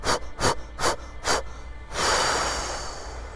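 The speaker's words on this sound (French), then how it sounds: "On inspire par le nez." A person doing an outdoor breathing exercise takes four quick, sharp sniffs in through the nose, then lets out a long, steady breath that fades slowly.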